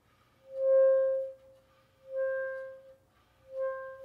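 A reed instrument plays three soft-attack notes on D, each started with breath alone and no tongue. The notes swell gently and fade, separated by short silences.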